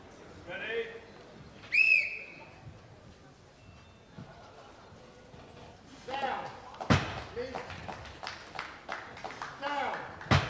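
A referee's whistle sounds at a World's Strongest Man Masters 2016 event with a 365-kilo lift, giving two short shrill blasts, followed by thuds, crowd noise and commentary talk.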